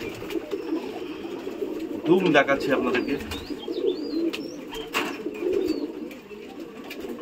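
Small pigeons cooing softly amid low background noise, a few short soft calls and chirps scattered through, with someone talking over them in places.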